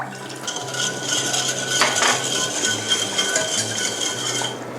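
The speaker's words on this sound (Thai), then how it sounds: "ใช้ตะก้อมือนะคะ คนให้น้ำตาลแล้วก็น้ำปลาแล้วก็น้ำส้มสายชูค่ะ" A wire whisk scrapes and clinks steadily against a metal pot, stirring sugar, fish sauce and vinegar into a sauce, a continuous busy stirring sound, close and fairly loud.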